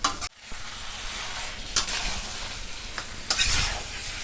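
Fried potatoes and mutton sizzle steadily in a hot pan as a spatula stirs and scrapes them, with occasional louder clatters of the utensil.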